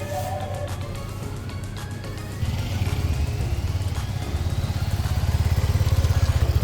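A motorcycle sets off on a road trip from Mumbai to Udaipur through Rajasthan, its engine a steady loud rumble that rises sharply partway through as the bike accelerates, with no talk over it.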